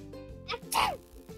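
A single quick, high-pitched sneeze, fairly quiet, with a short breathy intake before it.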